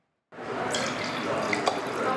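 Wine poured at a wine bar in Ohio City, Cleveland, one steady splashing stream of liquid running into a glass, close and fairly loud, with no talking.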